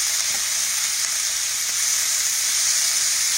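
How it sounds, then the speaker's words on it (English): Beef for stroganoff sears fast in a hot pan, giving a loud, steady, close sizzle that hisses continuously without a break and without voices. "That's why you're frying it fast."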